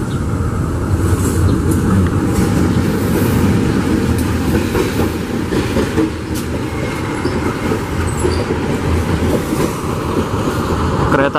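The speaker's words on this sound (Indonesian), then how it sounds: "Kereta api Serayu" Serayu passenger train hauled by a CC203 locomotive rolls past on the rails at Cibatu, a loud continuous rumble with rhythmic wheel clatter and occasional squeal, no voices.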